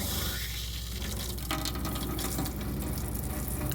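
Cold water runs steadily from a boat's tap while the water system is being winterized, a constant rushing hiss that stays even from start to finish with no talking.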